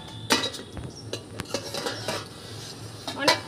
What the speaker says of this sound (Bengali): ঢাকাটা কিন্তু এবার আমি খুলছি